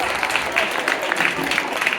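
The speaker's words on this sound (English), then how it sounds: "So once again, clap your hands for her." A seated audience claps for a woman giving a speech about Imam Hassan Cisse, producing a dense, even patter of many hands close by with no break.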